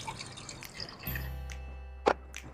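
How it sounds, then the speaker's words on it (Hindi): Milk is poured into a pan to make white sauce for a chicken pot pie, giving a soft, steady liquid pour with a brief splash near the end, close and fairly quiet. "दूध डालते ही हम इसको मिक्स करेंगे"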